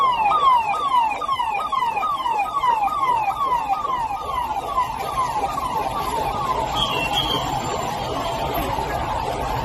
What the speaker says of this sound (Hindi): देखिए साहब किस तरह से सायरन बज रहा है।